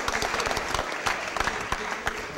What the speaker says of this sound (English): Let's give all them one more big round of applause